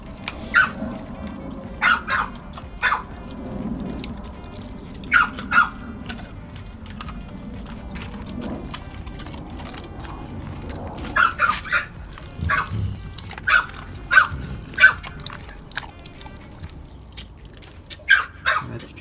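A pitbull fed raw meat lets out short, sharp barks, alone and in small bursts spread throughout, close by over a low background rumble.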